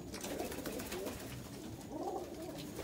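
Pigeons coo continuously at night in a loft, a dense, throaty chorus of several birds overlapping with soft rolling calls over a steady background rustle.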